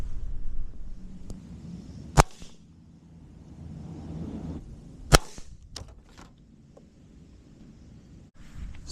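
A Colman F4 .177 air rifle fires two sharp, crisp cracks a few seconds apart, each followed by a faint metallic clink from the target, amid quiet surroundings.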